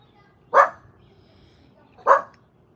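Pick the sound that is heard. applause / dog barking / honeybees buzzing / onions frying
dog barking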